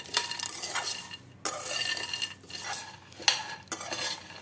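Peanuts are dry roasted in a pan for poha peanut laddu, rustling and scraping in bursts as they are stirred, with short pauses between strokes and faint clinks of the utensil, close and fairly quiet.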